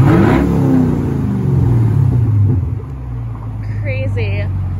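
Camaro with its exhaust cutout opened, engine revving loudly and close by, the roar building then easing into a steady rumble, with a brief high whistle near the end.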